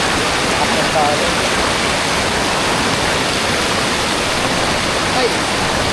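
Pinamun-an Falls in Nagcarlan, Laguna, roars close by, a dense, steady hiss of falling water blended with the rushing of a strong stream current.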